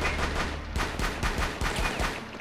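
Rapid bursts of gunfire in a multiplayer shooter game crack out in quick succession, several sharp loud shots spaced through the moment with no voices between them.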